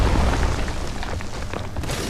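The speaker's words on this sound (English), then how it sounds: "you can see the strong attack, that big explosion, you can see that coming a mile away" A big explosion from an enemy's strong attack in Dark Souls: a loud, deep booming blast that rumbles on through the whole moment, with no talking.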